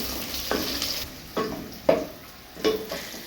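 Onions frying in a pan, a steady soft sizzle broken by several scraping stirs spaced about a second apart, close and moderately quiet.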